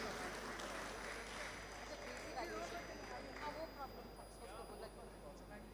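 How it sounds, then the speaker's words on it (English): A faint, distant audience applauds a speaker taking the stage at the IIT Madras E-Summit 2026 inauguration ceremony, the steady clapping mixed with scattered cheering voices throughout. "I'm counting on you to give him the loudest applause of the night"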